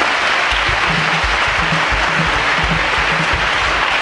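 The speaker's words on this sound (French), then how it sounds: "Acclamez pour nos mamans qui sont ici." Applause from a church congregation honouring the mothers in attendance: steady, dense clapping across the whole stretch, loud and close, with no talk over it.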